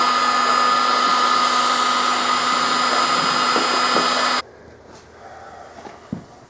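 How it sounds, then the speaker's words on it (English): A heat gun blows loudly and steadily to warm paint stripper on an 1866 Cresson, Hubbard and Smith lathe under restoration, a whining fan roar that cuts off abruptly, leaving faint workshop clatter. "I'm taking the hair dryer to it,"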